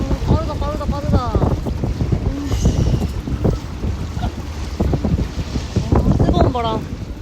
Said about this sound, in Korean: 뜨거운 바람.